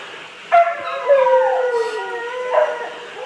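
Dogs howling near a temple in Chiang Mai, Thailand: a long, wavering, siren-like howl rising and falling in pitch, joined by a second voice, fairly close and clear against a quiet background.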